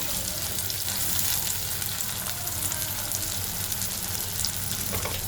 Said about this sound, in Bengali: আম্মু এখন দিয়ে দিচ্ছে পেঁয়াজ আর কাঁচা মরিচ। এখন নাড়াচাড়া করে নিচ্ছে।